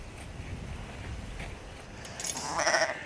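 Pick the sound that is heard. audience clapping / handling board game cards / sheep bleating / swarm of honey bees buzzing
sheep bleating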